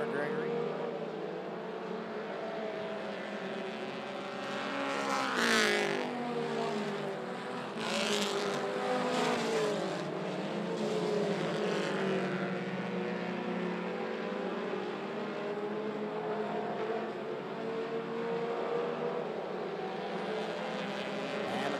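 Mini stock race cars roar around an oval track in a continuous, loud engine drone, with several cars sweeping past close by during a side-by-side battle, under ongoing commentary from an announcer.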